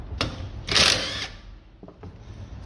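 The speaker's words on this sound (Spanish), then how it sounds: "quitamos tornillo Allen de 7, aflojamos el de abajo y aflojamos el de arriba" An Allen key loosens the bolts on a Renault Clio brake caliper: a few short, sharp metallic ratcheting bursts, close up, with quieter clicks between them.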